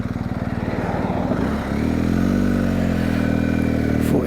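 A motorcycle being ridden along a road, its engine running steadily and close up, dropping briefly and then settling into a smooth, continuous drone with no talking.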